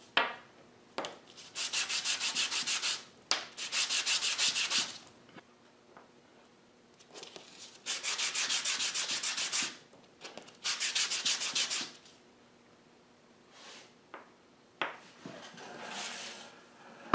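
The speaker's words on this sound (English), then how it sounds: "I'm just going to sand that a little pressure on the inside edge and clean all those inside" Inside edge of a wooden ring hand-sanded with abrasive, four long steady rasping strokes in regular bursts with brief pauses, close and clear, plus a few light knocks and handling sounds, no talk.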